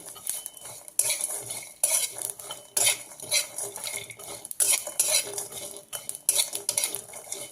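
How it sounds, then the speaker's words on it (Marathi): Cumin seeds are dry-roasted in a pan for a fish curry spice paste, with repeated close scraping and stirring strokes of a metal spoon and light crackling between them. "आपले जिरे वगैरे भाजलेले आहे तडतड तडतडते ते चांगले"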